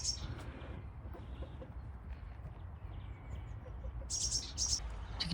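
Chickens on a farm give a few soft clucks and chirps against low outdoor rumble, with a short run of high, bright calls toward the end.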